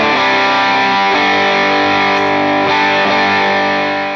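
Guitar played through a Ratatouille Rat-style distortion on a Line 6 POD Go, thick sustained distorted chords ringing continuously with a couple of chord changes, slowly fading at the end.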